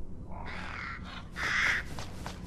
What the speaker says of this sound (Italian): Scusate corvi, ma qua è proprio chiuso